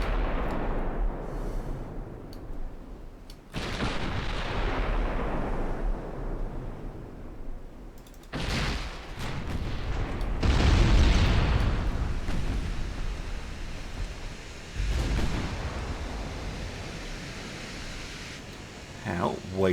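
Booming cannon fire from sailing warships in a naval strategy game. Several heavy blasts and rumbling bursts come in bursts and then decay into a wash of noise, with a voice talking in places.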